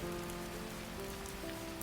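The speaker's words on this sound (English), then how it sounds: "The rain came on a Thursday, gentle as a lullaby" Gentle steady rain falling on a surface, a soft even patter that holds at low level throughout, with faint sustained tones beneath and no voices.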